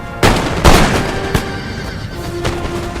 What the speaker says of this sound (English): look at my men, now they're firing